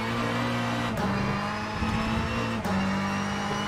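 Ferrari 488 GTE race car engine accelerating hard at Sebring in the rFactor 2 racing sim, a loud steady high-revving drone with two quick upshifts breaking the pitch, heard alone without talk.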